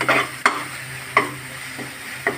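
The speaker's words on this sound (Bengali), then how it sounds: "ভালো করে কষিয়ে নিব" Egg and potato curry being sautéed in a pan, with a soft steady sizzle and four sharp scrapes of a spatula against the pan at uneven intervals, no voices.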